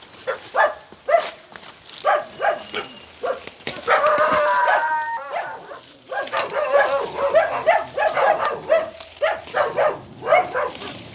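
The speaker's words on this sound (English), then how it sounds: "Oh, dog, you know." A rooster crows and a dog barks outdoors at a herb gathering spot in rural Jamaica, several loud calls and yelps overlapping in bursts across the stretch, with a lively mix of animal noise near the listener.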